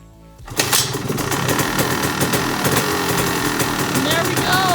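A dirt bike engine, sitting unused through winter, fires up after near silence and settles into a fast, steady, buzzing idle, close and loud, with faint talk underneath.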